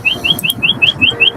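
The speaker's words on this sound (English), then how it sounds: "You got birds mad at you?" Birds chirp in a steady series of about eight short, bright, evenly spaced calls, fairly close and clear over a low background murmur, with no talking.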